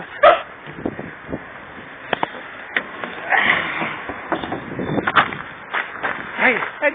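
A dog barks a few times outdoors while people talk and cheer over it, with sharp yelps standing out in a busy, cluttered mix.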